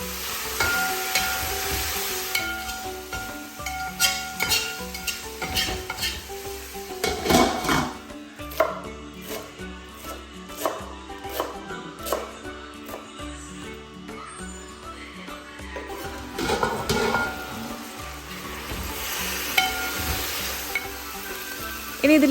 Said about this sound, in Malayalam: എന്നിട്ട് വെള്ളമൊന്നും ചേർക്കാതെ ഇതുപോലെ ഒന്ന് ഇളക്കി ഒന്ന് വേവിച്ചെടുക്കുകയാണ്